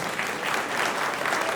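A packed audience at an all-India Hindi comic poetry gathering (kavi sammelan) in Takhatpur, Bilaspur claps together in a dense, steady burst of applause that carries on without a break.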